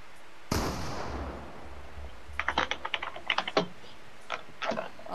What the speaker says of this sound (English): Oh no, I hear that keyboard.